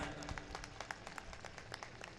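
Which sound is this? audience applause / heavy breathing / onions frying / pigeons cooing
audience applause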